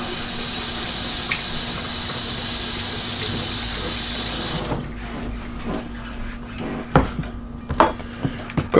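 Green onions are rinsed under a running kitchen tap, a steady hiss of water that cuts off midway, followed by a few sharp clicks and clatters near the sink.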